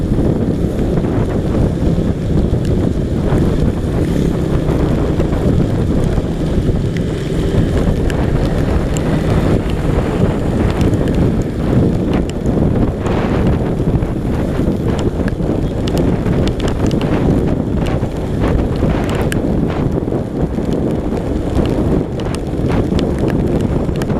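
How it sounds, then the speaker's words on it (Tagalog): Heavy rain and strong wind roar steadily during a motorcycle ride home, a dense, loud wash with wind buffeting the microphone throughout and no talking. "Lakas ng ulan at saka lakas din ng gulog mga lods at lakas din ng hangin"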